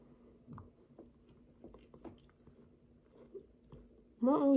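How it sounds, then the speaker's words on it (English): Someone eating a Taco Bell burrito with chips inside, giving soft, close, wet chewing and small crunches spread through the clip, with a voice starting at the very end. "let's eat this burrito."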